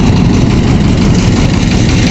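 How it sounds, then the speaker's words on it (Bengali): A shallow-type engine on a river boat crossing the Kushiyara River in Sylhet runs loud and steady at close range, a continuous low rumble with no voices. "চালক ইঞ্জিন স্টার্ট দিতেছে"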